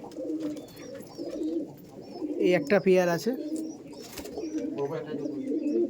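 Laldom and kaldom pigeons coo softly and repeatedly inside a pigeon loft in South Barasat, the low throaty calls close by and continuing under someone speaking.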